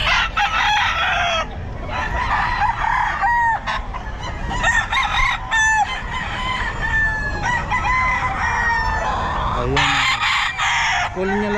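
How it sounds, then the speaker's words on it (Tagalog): Roosters crowing repeatedly at a Bocaue pet market, loud and close with overlapping calls and clucks among other fowl, over a busy background of crowd noise. "Itong manok ni Sir Angelo"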